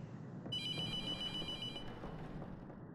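A telephone rings in the horror video game The Mortuary Assistant, a steady electronic trill lasting about a second and a half over a low ambient hum, with no talk.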